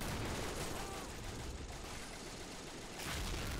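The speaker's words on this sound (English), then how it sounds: "Machine gun." Machine gun fire in the World War II strategy game Men of War: Assault Squad 2 forms a dense, continuous rattle of rapid shots with no pause, loud and close.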